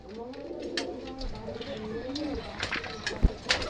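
Pigeons coo softly at a pigeon sale, their low repeated calls heard close under someone talking, with a few light knocks and scuffs among the birds.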